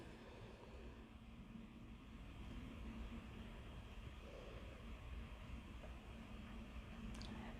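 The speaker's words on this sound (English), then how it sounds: "if you keep hearing airplanes in the background, that is why" Low, distant rumble of a jet passing overhead, a steady faint drone that swells slightly midway, with no talking.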